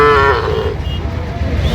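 A young bull calf at a cattle market gives one loud, close moo that fades, followed by busy crowd murmur.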